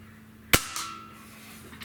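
A Diana 54 Airking Pro air rifle fires at a shotgun shell lying on its side, giving one sharp, loud crack and then a quick smaller impact tick, with a faint hum of background noise and no voices.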